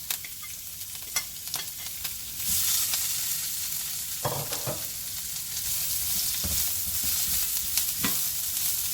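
Seasoning and carrot go into a pot of hot oil after frying fish for brown stew, giving a steady close sizzle with scattered stirring clicks and scrapes, and the frying swells louder partway through.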